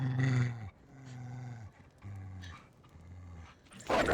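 A dog growls and snarls in a stretch of low, rumbling bursts set in a post-apocalyptic scene from the Fallout TV series, with the louder growls coming close together and a sharp noisy burst at the end.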